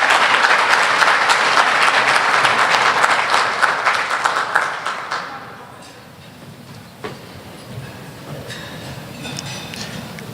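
Audience applause for high school athletes and coaches being honored at the 2018 All Stars Gala, a loud dense round of clapping that fades out after about five seconds, leaving quiet room murmur.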